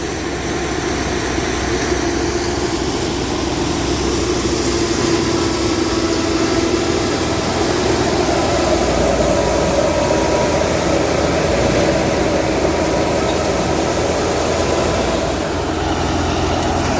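Continuous loud rumble and broadband roar of a 640 tractor engine running steadily during a mustard harvest, with threshing noise and no pauses throughout.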